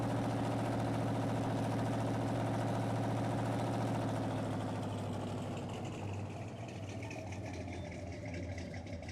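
Vehicle engine idling in the farming game Farming Simulator 19, a steady, loud mechanical drone with a low hum that holds throughout, easing slightly lower toward the end.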